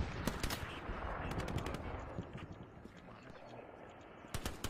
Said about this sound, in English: There was a guy shooting from there